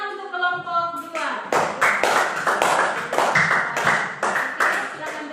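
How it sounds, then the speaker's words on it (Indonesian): A fifth-grade class applauds a student group in a rhythmic, patterned clap. A short spoken voice comes first, then a run of sharp, evenly spaced claps sounds close and clear in the classroom. "Oke, tepuk tangan untuk kelompok 2."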